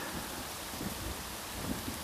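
Heavy rain and rumbling thunder during a sudden storm over a river bend, a dense continuous wash of rainfall with low booming rolls, faint and steady throughout.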